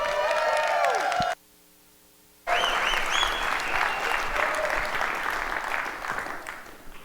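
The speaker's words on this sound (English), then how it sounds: "So let's give him a big round of applause for Paul." Audience applause and cheering for a speaker's entrance at a tech talk on FinOps and GreenOps, loud and sustained, briefly cut by a second of silence before the clapping resumes with whoops over music.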